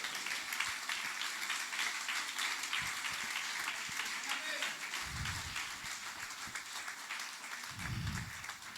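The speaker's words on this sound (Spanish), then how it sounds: "Un aplauso para la gloria de Dios." Church congregation applauding in praise during a sermon, a steady broadband wash of clapping that holds throughout, with low thumps and some voices mixed in.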